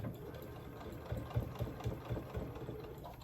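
A home sewing machine basts a long stitch on a fabric ID pouch made from a dish drying mat, a quiet run of about five rhythmic mechanical thumps in quick succession.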